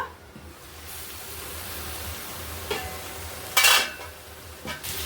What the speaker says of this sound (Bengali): 5 মিনিট হয়ে গেছে, ঢাকাটা খুলে নেব।